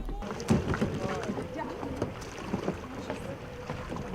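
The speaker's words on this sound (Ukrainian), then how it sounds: "Першим етапом для учасників було веслування." Paddling a large three-seat touring canoe during a 16-kilometre river stage of a multisport race in the Dniester Canyon: soft irregular paddle splashes and water sloshing, close and fairly quiet, while people talk.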